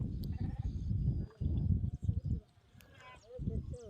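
Sheep and young lambs of about three months bleating in a small flock of ten or twelve, several repeated calls close by, with people talking over and between them.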